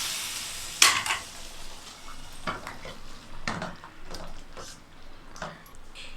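Curry leaves and asafoetida tempered in hot oil are tipped into a black bean gravy, giving a sudden sharp sizzle burst near the start, then scattered scraping and stirring clinks against the pot, close and moderately loud with no talk.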